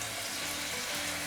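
Fish fillets sizzling in a flat pan with a little linseed oil, a steady soft hiss of frying throughout with no voices.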